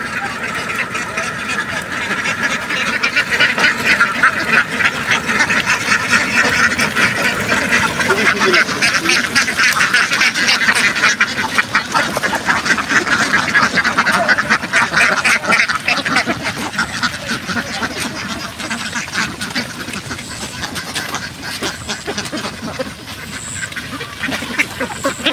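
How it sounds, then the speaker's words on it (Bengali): A flock of farm ducks on a riverside farm in Saturia, Manikganj, rushing in to eat feed, with continuous dense quacking and chatter from many birds close by and a voice talking over it. "দেখেন কত সুন্দর করে হাঁসগুলো দৌড়ে দৌড়ে এসে খাবার খাচ্ছে"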